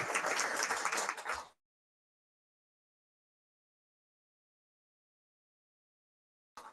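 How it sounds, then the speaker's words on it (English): An audience at a community projects event for Stratford and West Ham applauds the project leads with a loud, dense burst of clapping that ends abruptly after about a second and a half. Silence follows, and a faint flicker of sound comes right at the end. "give one final round of applause to all of the project leads"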